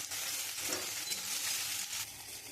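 Dried chilli, bay leaf and cumin seeds fry in hot oil in a wok, giving a steady, close sizzle throughout with no talking.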